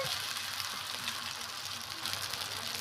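Rice flour batter and sauce sizzling in hot oil, a dense, steady crackling hiss with close, fine popping, heard alone without talk.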